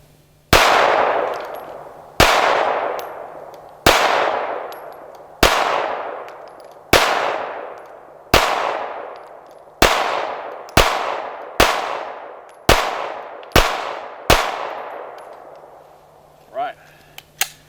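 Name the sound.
Sig Sauer P320 9mm pistol shooting zombie target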